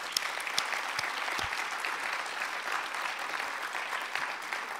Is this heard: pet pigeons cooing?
no